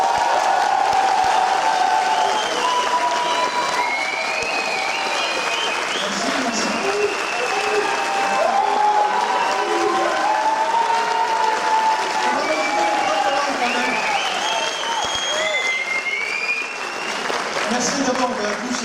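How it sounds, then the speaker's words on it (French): Crowd applauding Sébastien Laurent at the TGS Ohanami 2013 opening ceremony, loud sustained clapping with scattered cheers and whoops, voices talking over it throughout. "Je vous demande d'applaudir très très fort Sébastien Laurent,"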